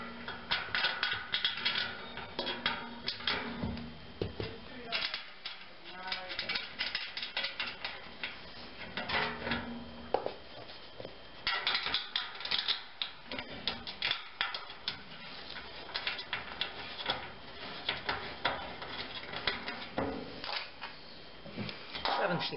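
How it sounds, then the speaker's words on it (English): Ratcheting wrench clicks while tightening a nut and bolt combination on the R bracket of a DHP Aiden futon frame, repeated metallic ratchet and gear ticks in bursts, close and moderately loud, with talking in between. "Wrench works on here."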